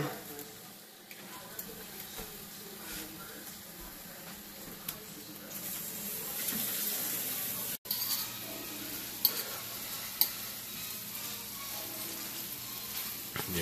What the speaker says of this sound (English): That's stir fry.